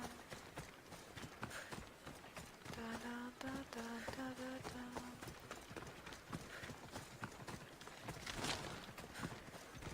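Rhythmic clip-clop of horse hooves at a quick pace in Assassin's Creed Odyssey, with a voice briefly humming a melody over it.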